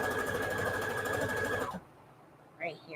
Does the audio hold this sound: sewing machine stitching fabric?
yes